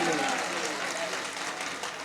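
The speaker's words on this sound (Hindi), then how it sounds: "एक बार यार तालियां बजा दो सब लोग" Audience members at a mushaira poetry gathering clap together in a continuous, fairly loud burst, with some talk mixed in at the start.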